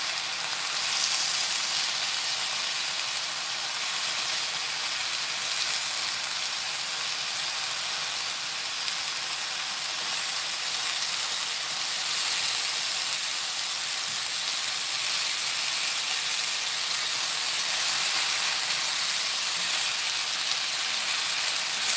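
King trumpet mushroom scallops, thickly cut and cross-hatched, frying in a pan, giving a steady, even sizzle with soft hiss that runs unbroken and alone throughout.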